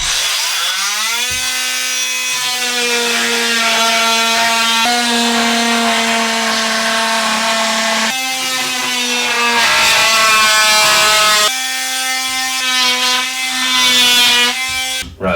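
Saw cutting through a plywood strip for a DIY feature wall, a loud tonal whine that shifts pitch in several sustained passes with brief pauses between cuts.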